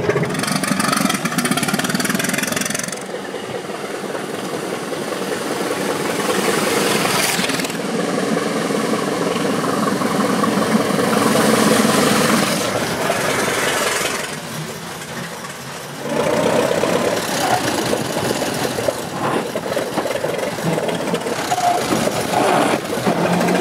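A 1908 Mors car's 750-cubic-inch four-cylinder four-stroke engine runs continuously, a rough mechanical chugging and clatter close by, dipping briefly before picking up again.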